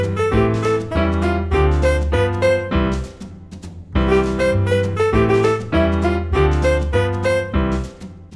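A piano plays a bouncy calypso jazz tune in an intermediate arrangement, with a lively syncopated melody over bass notes. It is loud and close, pauses briefly, then repeats the phrase, with no talking.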